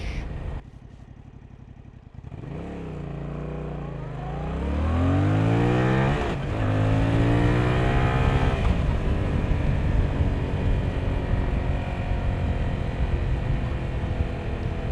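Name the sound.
Yamaha MT-07 motorcycle accelerating, taking off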